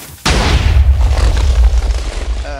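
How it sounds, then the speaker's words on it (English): A Minecraft TNT cannon fires with a sudden loud explosive boom that rolls into a long, rumbling low roar of blasts, the blocks of TNT going off together close by. "therefore causing the TNT to explode and cause damage to blocks"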